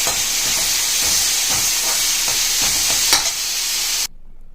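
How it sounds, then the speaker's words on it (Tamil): Tomatoes sizzle and hiss in a hot pan while being stirred, with occasional scraping, then the sound cuts off abruptly near the end. "இப்போ இந்த தக்காளி கொஞ்சம் நல்லா வதங்கட்டும்."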